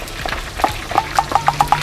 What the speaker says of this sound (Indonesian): Ini lagi ngegoreng guys.